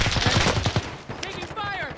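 Video game gunfire in Call of Duty Warzone: a rapid burst of automatic shots in the first second, then fading echoes and a brief tonal game sound afterward.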